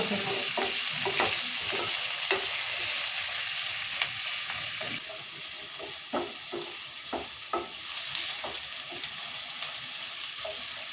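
Tomatoes and onions frying in a pan for wheat rava upma, with a constant sizzle beneath repeated sharp scraping stirs, irregular and close, no voices.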